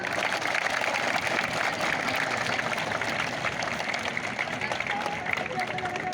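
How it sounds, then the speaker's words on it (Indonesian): Applause from a crowd gathered at an outdoor relay running event on a field in Banda Aceh, steady dense clapping held at an even level across the whole stretch with no talk over it. "Tepuk tangan semuanya."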